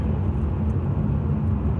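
A Porsche 911 Carrera S of the 991 generation with its optional sport exhaust drones on in a loud, continuous, low, raspy rumble, steady throughout with no speech.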